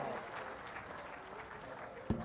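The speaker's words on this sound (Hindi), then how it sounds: "एक बार जोरदार तालियां" Audience applause at a Hindi devotional stage event, a moderately soft, continuous patter of clapping from a crowd, ending with a brief sharp knock.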